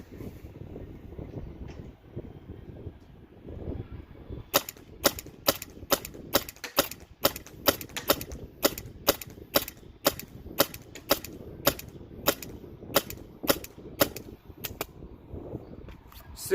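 A paintball marker fed from a First Strike Half Pint tank with an EMF100 regulator fires a rapid string of about twenty sharp, evenly spaced pops over light outdoor background noise.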